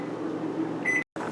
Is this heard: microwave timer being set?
yes